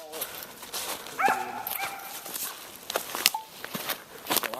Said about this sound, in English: Well, I think you got yourself a good little dog there, Sam.